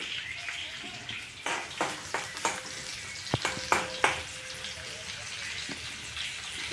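Ginger, garlic and green chillies drop into hot cumin-tempered oil, giving a steady close sizzle broken by several sharp crackles and stirring clatters, with faint background hum.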